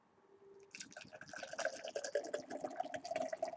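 Guinness Draught beer poured hard from the top into a glass, a close splashing, gurgling stream of liquid that starts after a moment and keeps bubbling and trickling as the glass fills.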